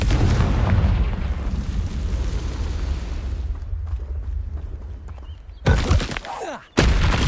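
A Confringo blast curse in Hogwarts Legacy on PS5 sets off a heavy, booming explosion with a long rumbling tail that fades out, followed by two sharp, loud bursts close together near the end.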